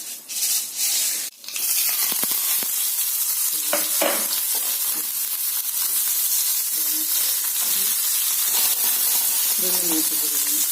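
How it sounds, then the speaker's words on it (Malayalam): Mustard seeds crackle and sizzle in hot oil in a home kitchen, steady frying hiss with scattered pops, preceded by a few clanks of utensils. "എണ്ണ ചൂടായാലും കുറച്ച് കടുകിട്ട്"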